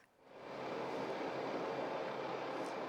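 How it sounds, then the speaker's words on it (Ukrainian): A low, continuous mechanical roar swells in during the first half second and holds steady, like helicopters droning close by. "Одразу перепрошую за шум. Зараз тут гул вертольотів"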